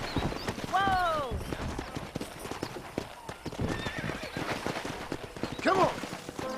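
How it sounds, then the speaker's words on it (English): Horses galloping in the video game Red Dead Redemption while wild horses are wrangled, rapid clip-clopping hooves with sharp neighs near the start and end, under a voice calling out. "Let's see if we can't wrangle some horses."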